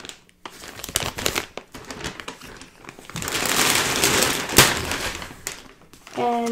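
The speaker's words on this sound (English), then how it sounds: "sorry for the crinkle noise" Loud, close crinkling and crushing of plastic mystery bag packaging around Premier Yarns yarn, with bursts of rustling, a brief pause, then sustained handling noise.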